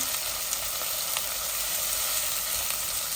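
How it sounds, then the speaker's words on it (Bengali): A medium-sized onion sizzles and fries in a hot pan for a fish curry, a steady loud crackling hiss throughout with occasional small pops and no talking. "এখন আমি পেঁয়াজ দিমু এখানে"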